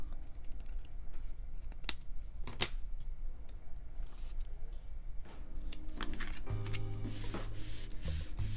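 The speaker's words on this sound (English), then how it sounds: "I'll just cut a little bit more off." Paper card for a pop-up flower pot card being trimmed with scissors, a few crisp snips and light rubbing and handling rustles close by, with a faint tonal scrape near the end.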